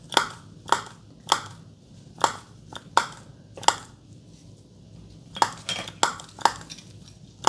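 A hole puncher gives a series of sharp metallic clacks, close and crisp, with uneven spacing and a quick double snap near the end.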